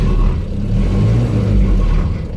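A Land Rover Series 3 109 engine runs steadily close by, a continuous loud mid-pitched rumble with slight rises in revs and no talking.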